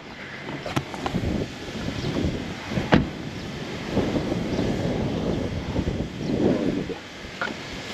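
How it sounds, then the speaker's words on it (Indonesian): Strong wind gusts buffet the microphone beside a Suzuki S-Presso car in Indonesia, a continuous rough rumbling roar that swells and fades, with a few sharp knocks. "keras sekali anginnya cuy"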